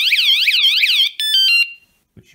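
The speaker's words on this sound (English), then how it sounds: "And there's the alarm," A cheap motion detector alarm blares a loud, close warbling siren for about a second, switches to a steady electronic tone, then stops and leaves a faint click.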